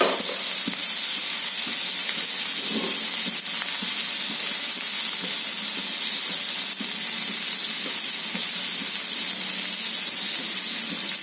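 Potatoes and onion frying in a pan, a steady close sizzle and hiss with occasional faint clinks of stirring, no voices over it.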